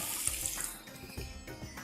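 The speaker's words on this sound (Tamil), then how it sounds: "ஒரு கப் தண்ணியை விடுறேன்." Water from a cup poured into a cooking pan in a home kitchen, a steady splashing pour running the whole short moment, close and fairly loud, with no talk.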